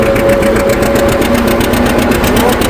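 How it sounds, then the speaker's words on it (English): A John Deere R tractor engine at full throttle labors up a steep hill while disking a field, a steady loud chugging drone with a rapid regular pulse and no talk. "Go full throttle here. Let it chug its way up that hill."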